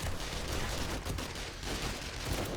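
NPC gunfire in 7 Days to Die during a horde fight, heard as a rapid, unbroken fusillade of shots that is constant but fairly quiet.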